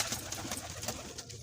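A flock of domestic pigeons coos in low, repeated murmurs close by while they feed on soaked paddy grain, with no talking.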